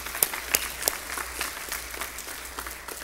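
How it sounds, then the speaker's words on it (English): Congregation in a Baptist church giving a round of applause during a morning service, scattered hand claps with several sharp distinct claps near the start, moderately quiet and settling over three seconds. "We need to give the Lord a hand clap of praise this morning"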